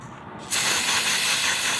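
Close, steady hiss of a spray washing down a chainsaw with a fuel cap leak, starting abruptly after a quiet moment and continuing evenly to the end.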